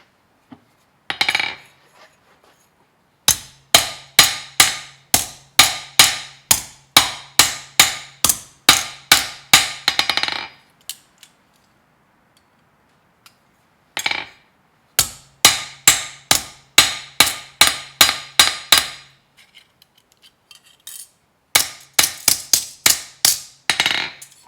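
Copper label strips are hammered flat on an anvil in quick runs of sharp metallic strikes with a ringing tone, close and loud, grouped into bursts of a dozen or more blows separated by short pauses.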